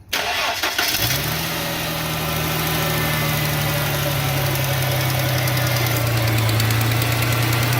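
A car engine, just repaired for a misfire, cranks briefly and catches, then settles into a steady, loud idle that continues alone, close to the listener.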